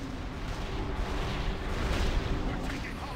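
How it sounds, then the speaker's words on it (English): Cannons firing during a World of Warcraft gunship battle on an airship make a dense, continuous rumble of booms and blasts that fills the whole stretch at steady loudness. "Get a battle mage out here to shut down those cannons!"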